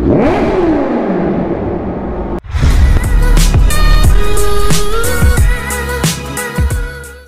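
A Kawasaki Z H2 motorcycle engine revs loudly up close: a rising, falling sweep first, then a sharp burst into harsh, sustained high revs with repeated throttle blips.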